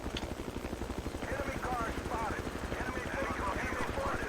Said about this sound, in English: We've got Ramondo in the helicopter taking off now.